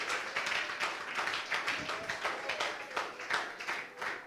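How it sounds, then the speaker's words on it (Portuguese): A church congregation clapping in worship for the Lord, a steady dense rhythm of many hands, loud and continuous throughout with no one talking over it. "Vamos aplaudir o Senhor."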